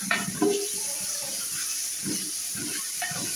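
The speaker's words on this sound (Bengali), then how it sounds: "এখানে আমি সামান্য পরিমাণে জল দিয়ে দিচ্ছি, তাহলে মশলাটা ভালো করে কষানো যাবে" Water splashes briefly into a pan of masala cooking over a wood fire for a mutton dish, followed by soft bubbling and gentle sizzling at a low level.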